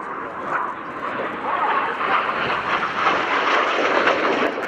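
A Red Arrows jet, Red 8, flies during an airshow display, its engine producing a steady, broad roar that swells slightly while a commentator talks over it.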